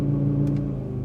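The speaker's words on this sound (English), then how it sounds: "slam the accelerator down" A brand-new 2020 Audi RS3 engine holds a steady, loud low rumble at launch, with a brief higher whir partway through.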